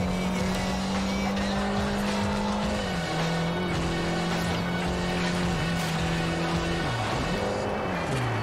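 Race cars in the Forza Horizon video game corner under braking with a loud, steady engine drone that dips and rises through the turns, with faint tire noise and no talk.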